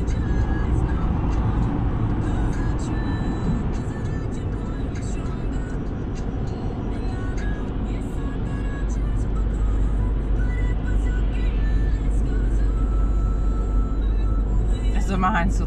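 Road traffic with trucks rumbles past, a steady low engine drone and tire roar heard close from inside a vehicle, with people talking over it.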